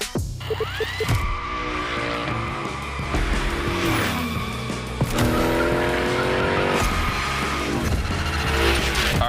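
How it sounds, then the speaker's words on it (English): The Hoonicorn drifts through a gymkhana course in The Crew Motorfest, its engine revving hard in bursts with long squealing tire slides and skids, loud and close throughout. "Let's see how you handled your first slides with the Hoonicorn."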